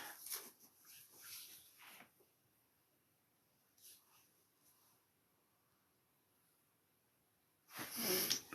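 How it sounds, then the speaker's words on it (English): A chihuahua snoring loudly, with bursts of raspy, wheezing breaths at the start and again near the end separated by a long quiet stretch, close and alone with no talking. "The world's loudest snoring chihuahua."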